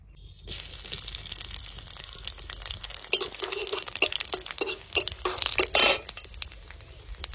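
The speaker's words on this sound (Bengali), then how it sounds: "তেলের উপর দিয়ে দেবো শুকনো লঙ্কা আর কালো জিরে।" Dried red chillies and black cumin seeds hitting hot oil in a pan while cooking jute greens with prawns, a sudden crackling sizzle with sharp pops and spatters, steady and close, flaring louder near the end.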